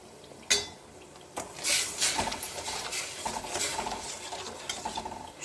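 Sugar syrup is stirred in a pan with a spoon, making soft, irregular scraping and clinking strokes over a faint background sizzle. No one talks.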